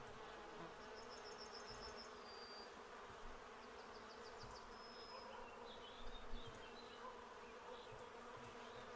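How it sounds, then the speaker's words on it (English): Honey bees drone steadily at a beehive in a constant, dense buzz, with faint higher chirps scattered over the hum. "The bees are not generally aggressive."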